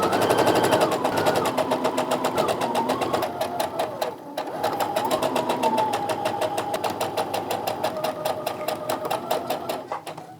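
A sewing machine running steadily and close, its fast needle rattle continuing through a short slowdown as it stitches curved seams on fat quarter quilt pieces.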